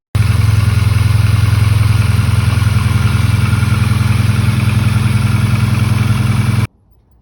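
A Classic Mini engine with a new exhaust idles steadily, a loud, even low-pitched burble heard close up, then cuts off abruptly near the end.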